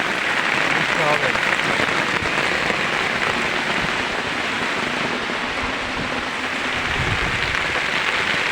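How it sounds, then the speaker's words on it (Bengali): Heavy rain pours steadily in a thick, even roar of drops across the whole stretch, with no breaks or lulls. "কি বৃষ্টি, কি বৃষ্টি।"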